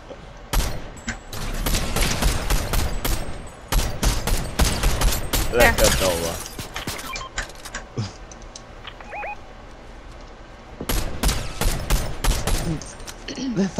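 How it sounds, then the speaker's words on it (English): Gunfire in a multiplayer shooter video game coming from several directions, with dense loud bursts and rapid automatic fire in waves separated by brief lulls, and players talking in between. "You're getting shot from like three directions?"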